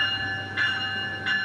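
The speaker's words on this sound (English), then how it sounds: "Our train just got here" A Brightline high-speed train arrives at a Florida station, rumbling steadily with a high ringing whine, as periodic hissing bursts repeat twice; no talking.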